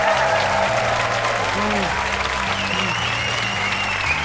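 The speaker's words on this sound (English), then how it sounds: "give them a huge round of applause" Applause from a crowd at a live hypnosis stage show, a continuous wash of clapping with music and a host's voice underneath.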